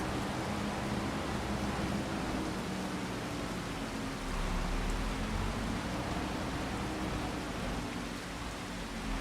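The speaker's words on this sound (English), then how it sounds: "it's going to stop raining." Steady, even rain from the Farming Simulator 25 farming game hisses continuously at a soft level, with no breaks and no voices.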